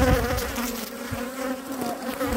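Honeybees swarm around an open hive during an inspection, a dense close buzzing drone with wingbeat tones rising and falling as insects pass near, steady throughout with no talk.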